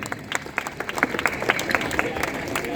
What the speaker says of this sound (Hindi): आपकी जोरदार ताली तो बनती है।